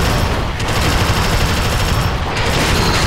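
Sustained automatic gunfire from the video game Alien Swarm, a loud dense unbroken rattle of rapid shots with booming low rumble running the whole time.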